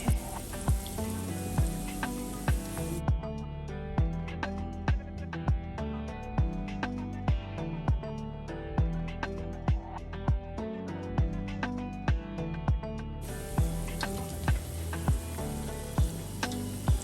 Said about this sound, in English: I'm going to repeat this process until all of my AKARAs are totally fried and nice and crispy